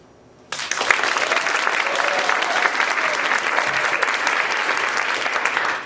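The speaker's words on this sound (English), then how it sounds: "we'd like you to fill the studio with ear-splitting applause" A radio theater studio audience bursts into loud, sustained applause after a brief quiet moment, thick steady clapping that carries on to the end.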